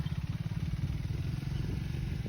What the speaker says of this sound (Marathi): ज्ञानदेव बोले congratulation for your new bike